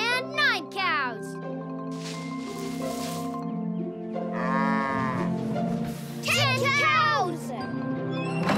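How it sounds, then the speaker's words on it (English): Cartoon cows on a farm mooing repeatedly in long, drawn-out calls, several separate moos scattered through the stretch, close and loud, mixed with lively talk and singing. "Here a moo, there a moo, everywhere a moo-moo."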